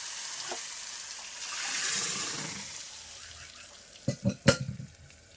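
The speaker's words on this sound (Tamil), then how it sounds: "கொஞ்சம் நிறம் மாறினோடனே இப்போ தாளிச்சிடலாம்" Crushed garlic and spices are tempered in hot oil for green gram (payir) dal: a soft hiss builds gently, then several sharp crackling sizzle bursts come close together near the end.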